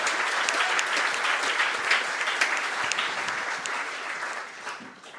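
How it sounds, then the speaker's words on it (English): Audience applause at a talk, steady dense clapping sustained for about five seconds before thinning out at the end, with no voices over it. "Should we give Zach a round of applause for the courage"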